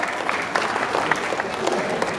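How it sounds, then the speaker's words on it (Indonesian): Wedding reception guests at a Minang traditional ceremony in Aula Binakarna clap together in a steady, dense patter of applause, moderately close, with a voice murmuring underneath. "Boleh kita berikan semangat tepuk tangan yang meriah untuk Patria dan"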